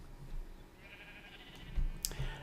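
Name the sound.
sheep bleating in the video game Minecraft (Feed The Beast)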